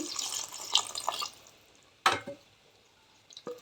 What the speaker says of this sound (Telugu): ఇప్పుడు వాటర్ వేసుకుందాం కొంచెం ఎక్కువ అవసరం లేదు